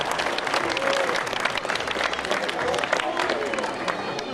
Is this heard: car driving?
no